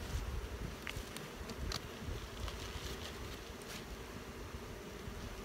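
A dense, steady drone of honey bees buzzing in a small, queenless spring hive fills the clip, with a few louder individual buzzes passing close by.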